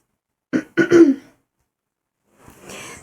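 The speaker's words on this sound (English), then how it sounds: "I am still coughing a little bit." A short burst of throaty coughs and throat clearing close to the microphone, followed by a brief quiet breathy sound.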